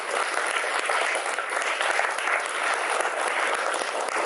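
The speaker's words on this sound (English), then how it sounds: "Let's give ourselves a clap." Applause from an audience at a vigil gathering, dense and continuous clapping from many hands that stays loud and even throughout, with no voices rising above it.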